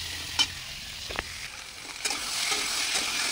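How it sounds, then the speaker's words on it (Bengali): Papaya and potato pieces are stir-fried in hot oil with green chilli. A steady, fairly quiet sizzle carries a few sharp spatula taps, and the frying gets a little louder near the end. "এবার পেঁপে আর আলুগুলোকে এর মধ্যে দিয়ে একটু নেড়ে চেড়ে ভেজে নেব"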